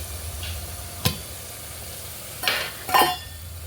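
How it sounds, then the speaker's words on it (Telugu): Onions fry in a pan for Kadapa-style fish biryani, a soft, steady sizzle broken by a few sharp scrapes and clanks of stirring. "ఆనియన్స్ ఫ్రై అవుతుంది కదా"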